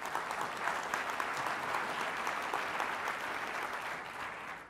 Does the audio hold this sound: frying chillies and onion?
no